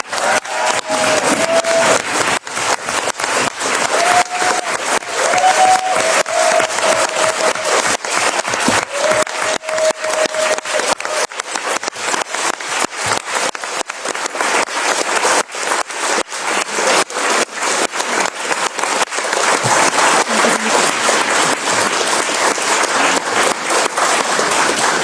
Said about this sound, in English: I think the applause says it all.